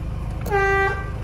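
A single short, loud air horn blast from a 1993 Toyota Land Cruiser KZJ73 with a 1KZ-T turbo diesel sounds over a low idling engine rumble, a steady brassy tone lasting under half a second.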